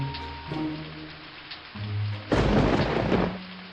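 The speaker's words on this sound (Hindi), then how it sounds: "इतने अचानक बारिश शुरू हो गई" Sudden heavy rain with thunder: a low rumble under quieter ambience builds, then a loud dense wash of downpour bursts in and holds to the end.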